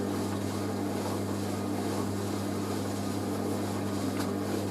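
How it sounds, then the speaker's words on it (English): A Hoover A3060 Electronic 1100 carpet washer's pump runs steadily throughout, a constant low drone with a broad hiss above it, moderately quiet and close, with no talking. "I might do a sleep aid video of this machine, maybe just the pump sound"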